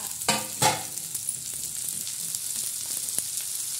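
Tomatoes and green chillies fry in hot oil for methi bhaji, a continuous sizzle under a few sharp ladle clicks and scrapes early on, then light tapping against the pan.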